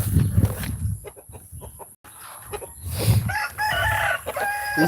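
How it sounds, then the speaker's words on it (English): A farm rooster crows in the latter half, a drawn-out, harmonic call at moderate distance, preceded by scattered clucks and rustling outdoors. "That's not my rooster, that's my friend's rooster."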